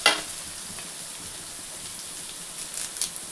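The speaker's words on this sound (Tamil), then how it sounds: "நறுக்கி வச்ச இஞ்சி, தட்டி வச்ச பூண்டு எல்லாம் வதக்கிக்கலாம்." Chopped ginger and crushed garlic sauté in a pan with a soft, steady sizzling hiss, faint and close. A small clatter comes at the start and light stirring scrapes near the end.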